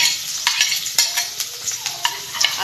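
Chopped garlic frying in a little oil for a homemade pizza sauce, a steady close sizzle broken by several sharp clicks and scrapes of stirring, with no voices.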